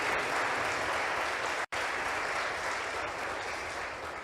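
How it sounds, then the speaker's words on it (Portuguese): A church congregation at a conference gives its pastors a strong round of applause, steady dense clapping filling the room, close and loud, with one brief cut in the middle. "mais uma forte salva de palmas"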